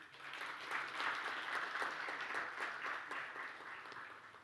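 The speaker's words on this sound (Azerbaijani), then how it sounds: "Alqışlarınızla." An audience at a business management forum panel session applauds steadily, a dense, sustained wash of many hands clapping that swells slightly and then eases, heard from within the hall without speech.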